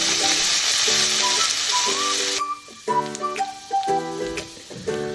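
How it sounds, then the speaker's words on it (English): Ginger garlic paste frying on low heat for a kofta meatball curry, a soft, continuous sizzle with a hissing wash at first that drops away midway, leaving quieter crackle and faint tonal kitchen sounds. "I'm adding the ginger garlic paste. And I'm going to fry this on a low heat for about"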